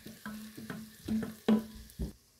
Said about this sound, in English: So I've started by frying our red onions with coriander stems.